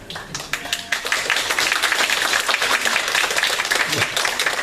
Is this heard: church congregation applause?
yes